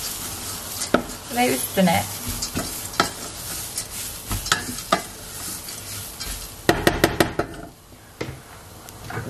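Lentil soup stirred in a pot, with scattered scraping and clinking strokes of a spoon against the pot at close range and a brief spoken phrase partway through.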